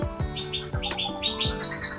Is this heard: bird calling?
yes